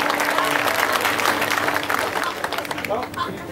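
Lively church congregation applause bursts out and fills the space, dense clapping and cheering that swells then tapers, with crowd voices mixed in.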